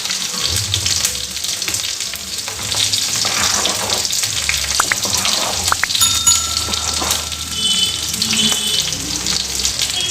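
Chicken curry with water and masala being stirred in a pan, giving a steady wet sizzle and bubbling with faint scraping throughout, close and continuous.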